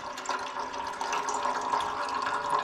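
Fluid draining from an old gas golf cart engine, a mix of oil, gasoline and water, runs in a steady continuous trickle and splash, close and moderately loud, with no talk.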